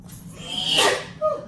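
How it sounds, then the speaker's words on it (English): A single sharp sneeze bursts out near the microphone while someone seasons fried cabbage and beef with spicy pepper and garlic powder, followed by a brief voiced exhale. "Making me try to sneeze."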